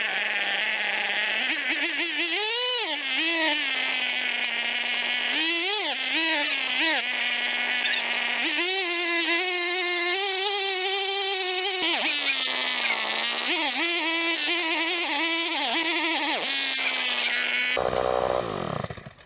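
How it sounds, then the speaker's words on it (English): A large powered auger bores a fence post hole in the ground, its small engine droning loud and close throughout, with repeated revving surges and pitch swoops as the bit bites into the soil. "So we're going to see if we can use this auger."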